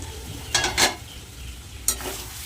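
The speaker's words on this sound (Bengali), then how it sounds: "ঢাকা দিয়ে দিয়ে মশলাটা কষাবো তাতে আলুটাও সিদ্ধ হয়ে যাবে মশলাটাও ভালোভাবে কষে যাবে" Spice paste and potatoes for an egg curry frying in a pan, with a few short bursts of scraping, sizzling stirring over a low background hiss.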